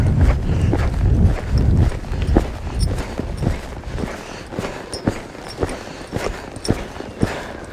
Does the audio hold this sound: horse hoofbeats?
yes